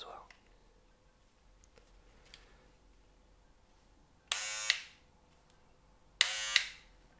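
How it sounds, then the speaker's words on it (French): A small electric razor, part of a hair clipper set with accessories, buzzes in two short bursts of about half a second each, loud and close, after a quiet stretch with faint whispering. "C'est un petit rasoir."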